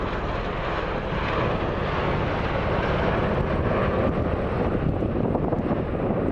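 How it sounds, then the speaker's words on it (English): A V-22 Osprey tiltrotor flies at an airshow in Orange County, New York, its engine and rotor noise a loud, steady roar with wind buffeting the microphone. "Ladies and gentlemen, right here, this is the Osprey."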